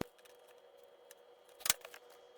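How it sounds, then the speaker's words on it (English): Scissors cut a laminated photo for a fridge magnet, giving a single short, crisp snip close up, faint against a quiet room hum with no voices. "Now just grab your scissors and cut it out."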